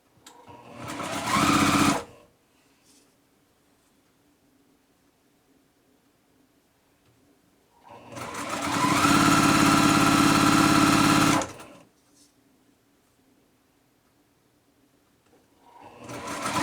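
Sewing machine stitching quilt block pieces for a stretched nine patch block, running in three separate bursts with quiet pauses between, the middle burst longest and loudest.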